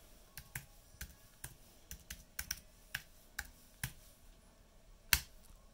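A command being typed on a Mac Pro keyboard: a steady run of crisp, close key clicks at an unhurried pace, ending in one louder, firmer keystroke as if pressing return, with no talk.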